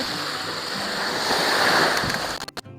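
Waves washing onto the white sand beach at Destin, a loud, close, continuous rush of surf that breaks off abruptly near the end.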